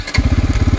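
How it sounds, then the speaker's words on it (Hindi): A 2024 Bajaj Pulsar N250 motorcycle starts on its electric self-starter and settles into a brief, close, loud, rhythmic engine thumping. "तो आप सभी ने देखा दोस्तों बाइक स्टार्ट हो चुका है"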